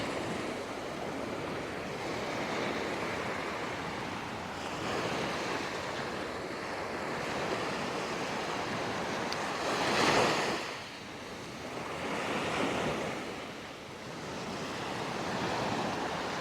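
Ocean waves break and wash over the rocks at Clifton Beach in a steady, rushing roar, with one louder surge cresting midway, wind noise mixed in and no voices.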